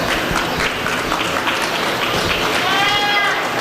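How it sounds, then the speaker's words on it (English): Steady applause from a crowd at a dairy goat show fills the whole stretch, dense and even, with a faint goat bleat rising briefly near the end. "We'll give all these exhibitors for the Dairy Goat Show a round of applause."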